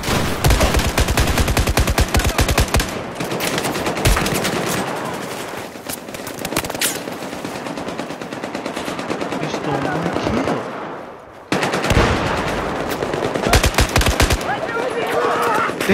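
Rapid machine gun bursts in the video game Battlefield 4 during team deathmatch on Zavod 311, loud dense rattling fire with brief pauses and a short gap before another burst.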